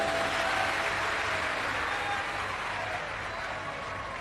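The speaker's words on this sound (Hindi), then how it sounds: "एक बार जोरदार ताली बजाओ" An audience at a Shiv Mahapuran katha in Kanker claps hard together. The steady, dense wash of applause holds for several seconds and fades slightly toward the end.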